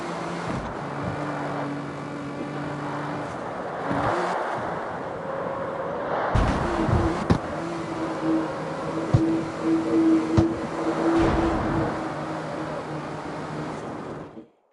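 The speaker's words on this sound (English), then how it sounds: "I love the way this car sounds though, the engine sound." Car engine in the street racing video game CarX Street, a steady mid-loud drone with rising and falling revs and wind-like rush, a few sharp knocks from wall hits, no voices.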